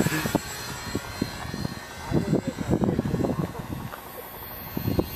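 Dynam Grand Cruizer-310 RC model plane flying into a crosswind, its engine a faint steady drone across the sky beneath people talking nearby.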